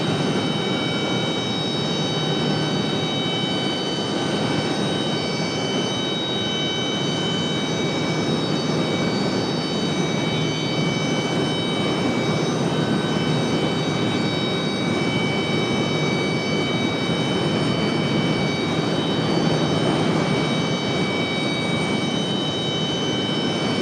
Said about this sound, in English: The 737 MAX 8 from Newark, New Jersey.